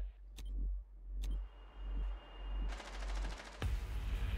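Gunfire in Rainbow Six Siege on the Skyscraper map: several sharp single shots spaced apart, then a rapid burst of automatic fire, loud and close.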